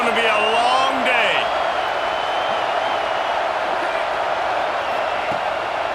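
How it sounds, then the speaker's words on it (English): A dense stadium crowd roars in a college football video game, a broad steady wall of noise that stays loud from start to finish, with a commentator's voice over it at the beginning. "This crowd, full throat, splitting the eardrums and letting them know it's going to be a long day."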